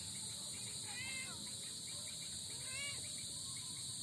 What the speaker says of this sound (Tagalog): ang daming kuliglig dyan